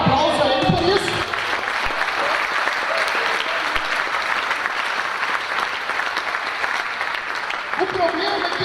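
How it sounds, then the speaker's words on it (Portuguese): Congregation applause during a church celebration service, a loud sustained roar of clapping from a large crowd, with a preacher speaking briefly before it and again as it fades. "Dê um aplauso a Ele por isso."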